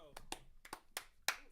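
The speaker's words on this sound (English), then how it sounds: "One more round of applause." A handful of sharp, separate hand claps, about five in a loose rhythm, come from a small group on a podcast set. They are close and fairly quiet, with brief gaps between each clap.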